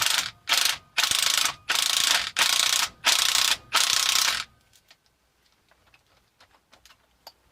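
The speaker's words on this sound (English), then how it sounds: "With both spring compressors attached, I'm going to gently and evenly wind them down to compress the spring." Spring compressors are wound down on the front shock absorber of a 2016 Vauxhall Corsa, giving about seven loud bursts of rapid ratchet clicking in a steady rhythm, followed by faint scattered ticks and clinks.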